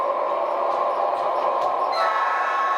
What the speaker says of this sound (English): when I push that button again, the trains will start, but without the announcement.